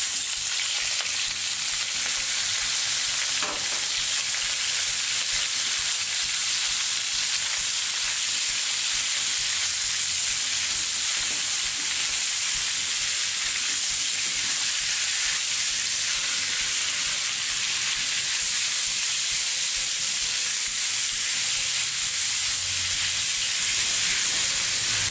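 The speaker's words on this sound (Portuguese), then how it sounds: "Nós vamos fritar todas as linguiças e o bacon." Sausages and bacon frying in oil for feijão tropeiro: a steady, loud sizzle and hiss that runs unbroken throughout, with faint stirring noises underneath and no talking.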